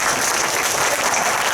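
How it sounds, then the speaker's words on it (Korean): Encouraging applause fills a school chapel service, a dense crowd clapping at an even, full loudness throughout, with no voices above it. "박수 한번 격려 박수 해주시기 바랍니다"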